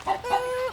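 Chickens on an industrial farm, close and fairly loud, giving a short run of clucks and a drawn-out tonal squawk, with no talking.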